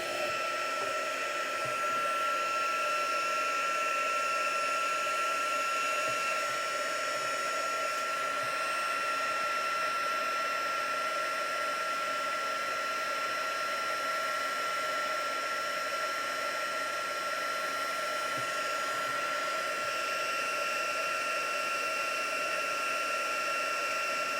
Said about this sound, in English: So now I'm just going to heat emboss this.